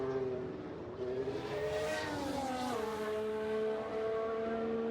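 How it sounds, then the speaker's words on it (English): Race car engines from F1 Manager 2022 scream at a night race, steady high-pitched whining tones rising and shifting in pitch as cars pass, sustained and fairly loud throughout with no talk. "Love the sound of race cars."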